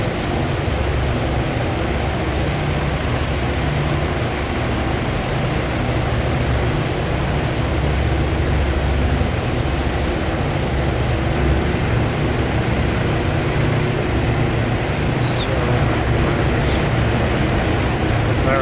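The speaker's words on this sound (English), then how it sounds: "It turns out that about 50 odd planes starting their engines together is a bit noisy." Around fifty warplanes start their engines together in the naval war game Task Force Admiral, a loud, dense, steady roar of droning propellers and rumble that holds throughout without letting up.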